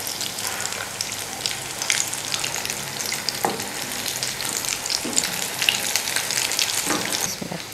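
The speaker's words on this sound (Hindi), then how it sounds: "कबाब को तल लेते हैं।" Kababs fry in hot oil with a dense, close sizzling hiss full of rapid crackles and spits, broken by occasional soft clinks, steady for several seconds with no speech.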